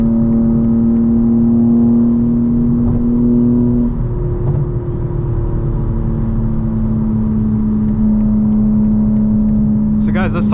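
A 2025 BMW M4 Competition xDrive drives along with a loud, steady engine drone heard from inside. Its tone holds fairly even and shifts slightly in pitch, with road rumble underneath.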